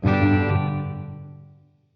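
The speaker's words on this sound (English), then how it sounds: "Here we go, spring reverb." A single strummed, distorted guitar chord rings out with a metallic, washy reverb tail that decays smoothly over about two seconds.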